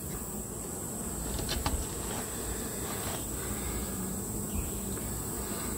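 Honey bees at a hive during beekeeping, a continuous soft buzzing hum from many calm bees that stays even throughout, with a few faint knocks and no talk.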